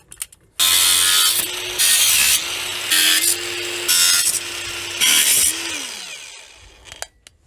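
A Belarusmash BShMA-36 cordless angle grinder cuts in five loud, harsh bursts of roughly a second each, its whining motor pitch holding between cuts and winding down at the end.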